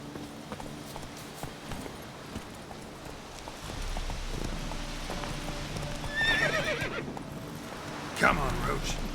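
Horse neighing and hooves clip-clopping in The Witcher 3, the whinny rising clearly around the middle and again near the end over steady game ambience, with a voice talking faintly at times.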